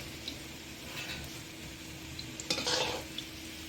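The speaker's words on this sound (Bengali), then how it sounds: "পিঠেগুলো কেমন ভাজা হয়ে গেছে সুন্দর কালারও চলে এসছে" Soft, steady sizzling of sweet potato cakes frying in a pan, with a few quiet stirring scrapes and a brief louder hiss.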